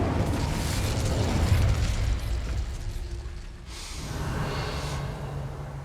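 Incendio fire spell cast in the Hogwarts Legacy video game, a loud whooshing roar of flame that rumbles for a couple of seconds, dips, then flares again with softer crackling, with no talking.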